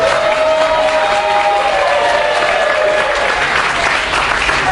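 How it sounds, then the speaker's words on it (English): A crowd at a live show in a Hershey VFW hall claps loudly and steadily for the bartender, with scattered whoops and cheers rising over the dense, continuous applause. "Let's have a big round of applause for her."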